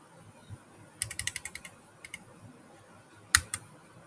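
Typing on a computer keyboard while filling in AutoCAD drawing properties: quick bursts of close, crisp key clicks in an irregular rhythm, then a short pause and a few more taps.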